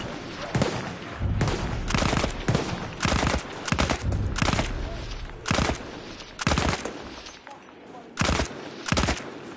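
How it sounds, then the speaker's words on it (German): Battlefield 1 gunfire crackles in repeated bursts and single shots, a busy uneven rhythm of close rifle and machine-gun fire with players talking over the game audio. "Wo schießt denn der hin?"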